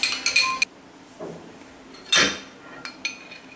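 Two eggs whisked in a bowl for whole wheat babka, a few light metallic clinks and taps in short scattered bursts with quiet pauses between, close and fairly soft.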